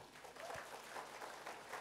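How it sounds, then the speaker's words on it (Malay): A faint round of audience applause at a company introduction presentation, soft continuous clapping from a crowd heard at a distance for a couple of seconds. "Tepuk tangan untuk Atomy."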